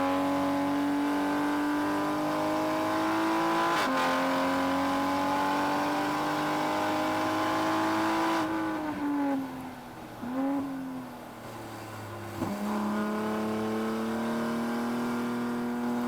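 Toyota Supra engine on a time attack lap in mixed wet and drying conditions, droning loud and near from onboard, holding steady pitch, then dropping and rising through gear changes and braking.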